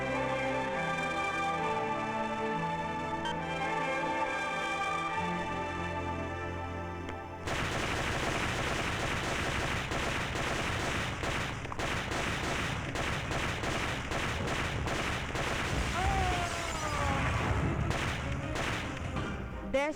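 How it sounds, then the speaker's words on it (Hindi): Gunfire rattles through a Hindi action film set in Mumbai. Dramatic music plays for the first several seconds, then dense, rapid bursts of shots crackle continuously under the score until the end. "गोलियां चलाने वाले हेमंत बस अंधाधुंध फायरिंग कर रहे हैं।"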